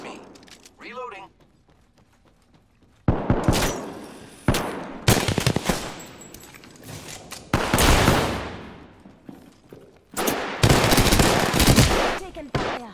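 Loud bursts of automatic weapon fire in the Apex Legends video game come in long, rattling volleys with short pauses between them, after a quieter opening.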